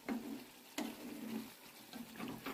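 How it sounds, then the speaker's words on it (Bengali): Pangas fish frying with spices in a pan, a soft steady sizzle broken by a few louder stirring or scraping strokes, close and without talk. "এরপরও কিন্তু মশলার সাথে একটু ফ্রাই করছি।"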